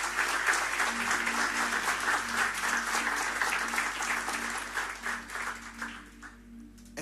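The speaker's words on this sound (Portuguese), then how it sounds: "Você pode mais uma vez aplaudir ao Senhor Jesus?" A church congregation at a Sunday service in Lisbon applauds, a dense wash of many hands clapping steadily for about six seconds before fading out.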